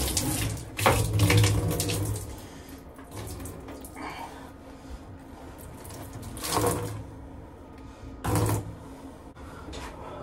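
Water splashes and gushes out of a tuba being emptied after a bath, in several separate bursts of pouring between quieter stretches of dripping and handling.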